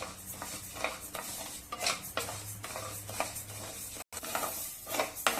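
Grains dry-roasting slowly in a pan over low heat, stirred with a spoon: repeated soft scraping and rustling strokes with faint metallic clinks, steady and close, with a brief dropout near the end.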